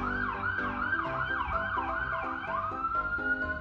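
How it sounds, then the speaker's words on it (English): An ambulance siren wails steadily in a repeating rising-and-falling pattern, fairly close and loud, with faint road noise underneath. "I live right by a hospital, so that was an ambulance."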